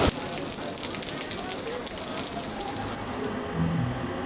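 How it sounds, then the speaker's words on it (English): Heavy rain pours down in George Town, Malaysia, a dense, steady hiss of water falling close by for the whole stretch, with a slightly louder splash near the end. "it's like really raining now, like so heavily"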